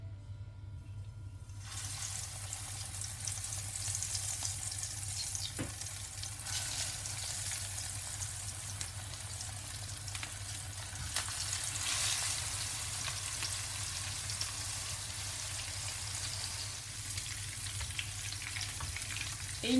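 Sea bream laid into about a centimetre of hot oil in a pan sizzle and fry steadily, with a continuous crackling hiss after a brief quiet start and no talk over it.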